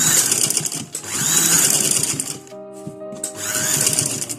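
A sewing machine stitches a kurta in loud, rapid bursts of rattling, separated by a short pause in which a clear tonal hum shows, before the stitching starts again.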